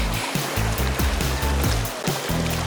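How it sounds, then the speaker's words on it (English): Ocean waves churn and break on a surfski course, a loud continuous rushing of water with rhythmic low pulses, no talk. "And these waves are a bit tough to get through, hey?"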